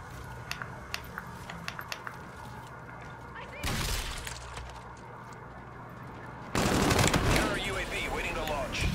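Automatic gunfire from the Kbar-32 in Call of Duty: Infinite Warfare, a steady rattle of rapid shots under constant game noise, breaking into louder bursts partway through and again near the end.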